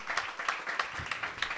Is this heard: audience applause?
yes